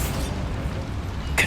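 A Bombarda spell explosion in the video game Hogwarts Legacy, heard as a deep rumbling boom with a sharp crack near the end, loud and close.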